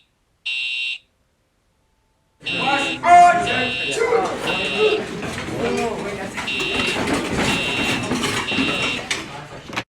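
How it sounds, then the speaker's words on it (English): A fire alarm at a Chuck E. Cheese's in Oceanside, California blares in repeated electronic buzzing pulses, one short burst, then a pause, then a steady run of honks under excited voices. "Someone pulled down the fire alarm."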